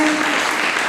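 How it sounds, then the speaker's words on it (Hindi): Dense crowd applause at a Jain religious gathering, a steady loud wash of clapping filling the brief moment. "बहुत अच्छी ताली बजा दो"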